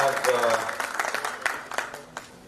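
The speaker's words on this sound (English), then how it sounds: "Kindly give him a big round of applause." An audience at a Ludhiana business interaction applauds the Consul General of Canada, a short burst of clapping that thins to a few scattered claps, with a voice talking over the beginning.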